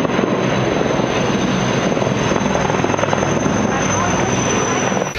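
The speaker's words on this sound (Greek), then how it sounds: "Τα ελικόπτερα Έριξον ενοικιάζονται από το εξωτερικό και είναι από τα πιο ακριβά πτυτικά μέσα πυρόσβεσης." An Erickson firefighting helicopter thunders with a loud, constant rotor and engine roar close by, a high whine running steadily above it while a voice speaks underneath.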